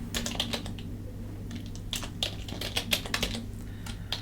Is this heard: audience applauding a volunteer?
no